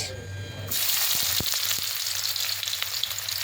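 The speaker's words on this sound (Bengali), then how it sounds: "তেল কিন্তু গরম হয়ে গেছে, আর তার মধ্যে আমি দিয়ে দেবো পেঁয়াজ" Onions drop into hot oil and start frying in a home kitchen. A sharp burst of loud sizzling begins at once and then holds as a steady, close crackle, with a few faint clinks of a utensil.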